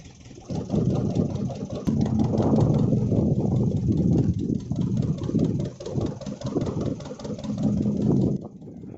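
A high-speed Indian Navy boat runs past at sea, its engine a loud, steady mid-to-low drone that holds near and strong for several seconds before cutting away at the end.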